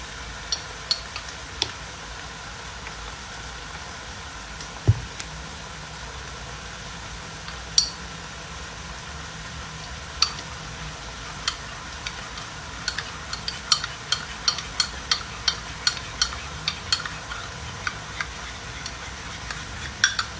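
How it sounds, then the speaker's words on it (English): A spoon stirs a corn flour slurry mixed with wine for a chicken in white wine dish, giving light scattered clinks against the bowl over a steady soft background hiss. "I'm just mixing the corn flour slurry"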